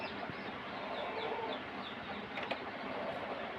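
A rooster clucking outdoors in a village setting, several soft clucks in a row over a steady hissing background, moderately distant with no talk.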